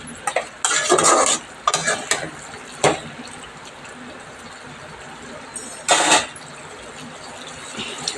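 Village-style chicken cooks in oil in a pan, with a low steady sizzle behind several loud bursts of stirring and scraping near the start and one more a little before the end.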